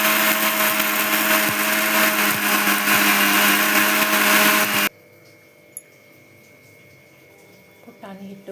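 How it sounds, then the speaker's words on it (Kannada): Mixer grinder powdering roasted gram, a loud steady whirring roar for about five seconds that stops abruptly, leaving quiet room sounds with a few small clicks and soft noises. "ಈಗ ನಾನು ಪುಟಾಣಿಯನ್ನು ಇದನ್ನು ಮಿಕ್ಸರ್ಗೆ ಹಾಕಿ ಪುಡಿ ಮಾಡ್ತೀನಿ."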